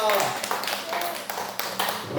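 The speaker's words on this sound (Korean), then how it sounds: "우리가 하나님께 감사의 박수 한번 올리겠습니다" A Korean church congregation gives a short round of thankful clapping during a Sunday service, a quick series of rhythmic hand claps close by.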